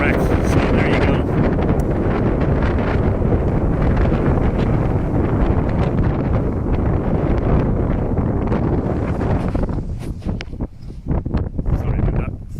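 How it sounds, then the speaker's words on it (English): Strong wind buffets the microphone outdoors at Newgrange with a loud, continuous roaring rumble that eases briefly near the end before gusting again. "The wind is so strong that it's actually taking my breath."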